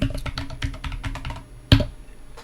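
A burst of quick keystrokes as a command is typed on a computer keyboard, then a short pause and one loud, sharp key press that sounds like the enter key being hit.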